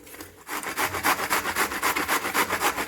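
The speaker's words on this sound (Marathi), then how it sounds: "सर्व मी असे किसून घेणार आहे अशा प्रकारे सर्व भोपळा मी किसून घेतलेला आहे" Bottle gourd is rubbed hard against a kitchen grater, giving quick rhythmic rasping strokes, about five per second, close and loud after a brief quiet start.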